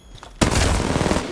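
Gunfire in Apex Legends Mobile: after a short quiet lead-in, a loud, close burst of rapid shots starts abruptly and rattles on without pause to the end.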